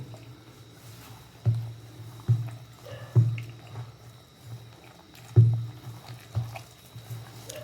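Wet wheat flour dough squelches as water is worked in during hand kneading for village-style wheat ponda, with about six soft, rhythmic squishes at close range and no talking.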